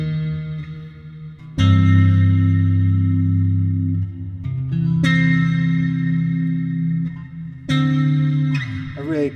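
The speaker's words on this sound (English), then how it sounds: "really cool cavernous type reverb which kind of goes on for days" Bass guitar played through the Guitar Rig 6 Realm reverb, with sustained low notes ringing out into a vast, cavernous wash that lingers between three separate plucks.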